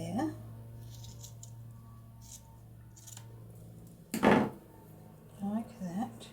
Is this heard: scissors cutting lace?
yes